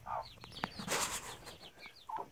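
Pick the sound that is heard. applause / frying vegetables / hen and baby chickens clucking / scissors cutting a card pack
hen and baby chickens clucking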